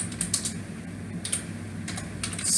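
Bursts of quick keystrokes on a computer keyboard as C++ code is typed, with short clusters of clicks separated by brief pauses, fairly close and alone.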